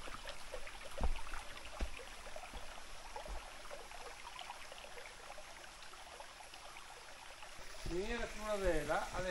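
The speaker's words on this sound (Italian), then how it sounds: "Guarda che acqua splendida che c'è." Stream water flows at a river ford near an old mine, a steady soft rushing trickle close by with a few small splashes, while a person speaks toward the end.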